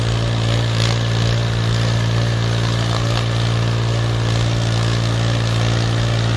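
An Abhiman mini tractor engine runs continuously at close range, a loud steady chugging drone with no pauses.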